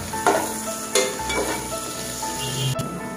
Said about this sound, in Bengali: তো আদা কুচি আর রসুন কুচিটা একটু হালকা ভাজা ভাজা করে নেব।